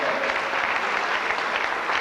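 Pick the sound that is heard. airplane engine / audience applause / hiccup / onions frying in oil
audience applause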